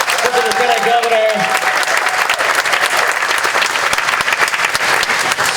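Audience applause for the Lieutenant Governor at the 2025 Wausau Hmong Festival, loud and close, with a voice briefly over the opening before the clapping continues strongly.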